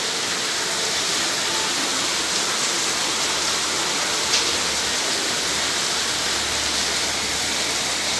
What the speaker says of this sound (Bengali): ঝেপে বৃষ্টি চলে এসছে, প্রচণ্ড বৃষ্টি হচ্ছে